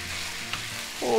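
Prawns and linguine sizzle loudly in a hot pan as they are stir-fried. There is a steady frying hiss throughout, and it swells near the end as the food is tossed.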